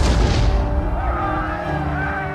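Cannon fire on a battlefield, heavy booms opening loudly and then rumbling away under lingering tonal noise, with no speech over it.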